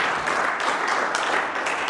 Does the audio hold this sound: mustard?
no